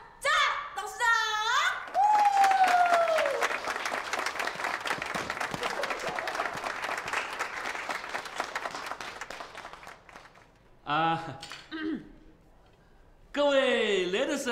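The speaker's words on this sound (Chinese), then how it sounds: "好，接下来我们以最最最热烈的掌声来欢迎我们的赵董事长。" Warm, sustained applause fills a drinks party as a company chairman is welcomed, with dense clapping lasting many seconds under and after an announcer's voice, and more talk following.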